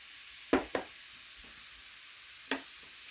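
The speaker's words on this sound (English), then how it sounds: "Now let me go ahead and get that stirred." A utensil stirs rice with onion and garlic in hot oil in a pan over medium heat, giving three distinct scraping strokes against a soft, steady sizzle in a quiet kitchen.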